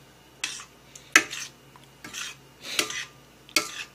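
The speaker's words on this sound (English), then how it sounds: "Stir it up." A spoon stirs tomato sauce in a pan on medium-high heat, giving about six separate bursts of clinking and scraping against the pan in an uneven rhythm, close up with no talking.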